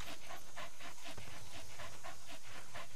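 A dog in Metal Gear Solid V: The Phantom Pain pants in a fast, even rhythm, close and clear, with no other sounds around it.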